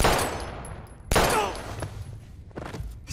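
Gunshots in the game Life is Strange: a few loud, sharp cracks ring out close by, each followed by a decaying echo, with a fainter shot near the end.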